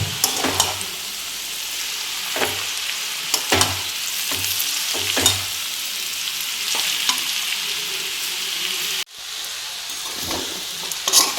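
Chicken chow mein is stirred and tossed in a pan, with repeated scraping strokes over a steady background sizzle of frying and no talking.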